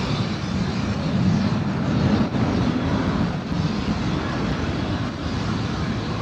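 A jet airliner accelerates down the runway and lifts off at an airport, a loud, steady low engine roar with broadband rush that holds throughout, with no talk over it.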